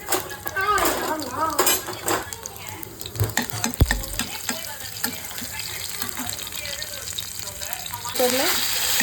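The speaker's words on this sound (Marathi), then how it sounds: "थोडी मोहरीची टाकते आता मस्तपैकी, आणि टाकणारे पहिले लसणाची फोडणी असते ना" Mustard seeds and garlic sizzle and crackle in hot oil for a tempering. Pan clatter rises over the frying while someone talks through much of it.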